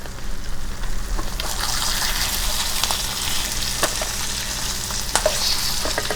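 Eggs fry in butter in a pan with a steady, close sizzle and crackle. Small pops and spatters break through now and then, and there is no talk.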